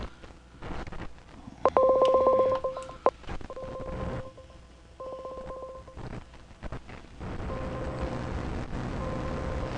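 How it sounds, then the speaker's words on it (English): Telephone keypad tones beep in quick succession, followed by repeated ringback tones through a handset, over faint background noise. "Still ringing."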